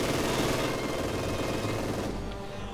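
MG42 machine gun in the Company of Heroes 2 battle game: a dense, unbroken roar of rapid automatic fire mixed with battle noise, loud and steady for nearly three seconds before easing slightly.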